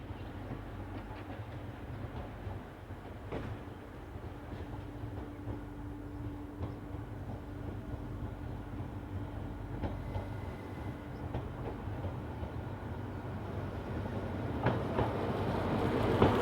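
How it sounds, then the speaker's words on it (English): An SNCF X76521 diesel multiple unit arrives at a station, its low diesel drone and rail rumble continuing steadily with intermittent wheel clicks, fairly quiet and growing slightly louder toward the end. "X76521 arrives from the north with the 618 from Clermont-Ferrand to Dijon"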